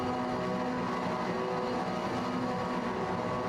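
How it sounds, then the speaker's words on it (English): V8 Supercar engines in the iRacing game rev together at a race start at The Bend, a dense, steady roar of many cars holding high revs with no talk. "as the drivers get the revs up"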